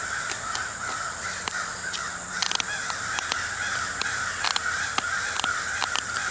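Crows cawing while mobbing a hawk somewhere off in the woods, repeated harsh caws from several birds at irregular intervals, fairly distant over steady background hiss and occasional close clicks, no talking.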